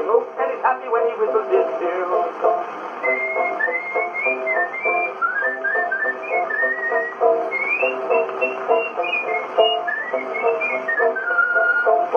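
A person whistles a bouncy, warbling tune on a 1918 vaudeville recording, the melody running continuously over tinny, band-limited accompaniment with the crackly, narrow sound of an old record.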